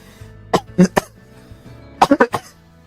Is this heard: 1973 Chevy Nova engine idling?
no